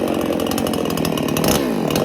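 A Dereal Pro chainsaw engine runs loud and close with a steady buzzing two-stroke drone, its pitch shifting briefly as the throttle changes near the end.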